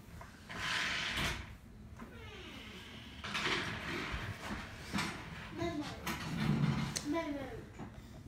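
A door is opened at home with a few soft knocks and clunks, mixed in with people talking and a voice nearby.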